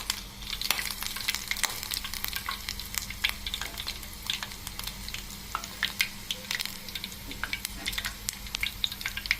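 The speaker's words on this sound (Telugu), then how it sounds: "ఇట్లా తిప్పుకుంటూ తిప్పుకుంటూ దీన్ని మరిగించుకుంటుంటే దీని జెల్ అనేది ఆయిల్లోకి దిగిపోతుంది" Aloe vera gel frying and sizzling in hot oil in a pan while being stirred and folded, a steady near crackle with dense sharp pops throughout and a low hum underneath, no voices.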